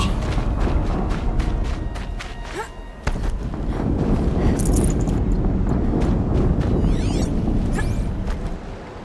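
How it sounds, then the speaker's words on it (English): Explosions and combat in the video game Horizon Zero Dawn, a dense, loud rumbling roar with sharp impacts and whooshes layered over a continuous booming low end. "An explosion."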